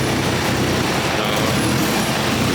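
A Ford Mustang engine idles with a loud, rough, raw-sounding rumble, close up and steady, with no talking.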